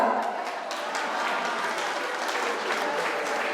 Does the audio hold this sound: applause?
yes